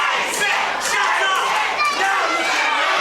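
Wrestling crowd at a live indoor show roars and shouts continuously, a dense wall of voices with rising yells, loud and enveloping throughout.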